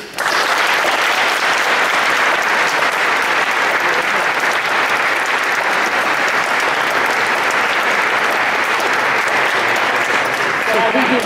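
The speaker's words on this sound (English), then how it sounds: "Shown, ladies and gentlemen, by your applause" Sustained, loud applause from a large audience at a Philosophical Society event after a speech by Nancy Pelosi, a dense steady roar of many hands clapping for about eleven seconds.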